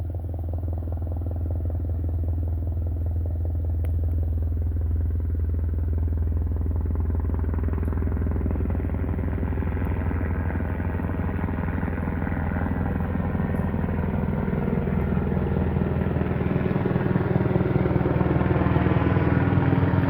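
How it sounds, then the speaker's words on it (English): Helicopter flying overhead outdoors, a steady, loud low-frequency rotor and engine drone that holds throughout and swells slightly toward the end as it passes above. "Got a helicopter coming this way."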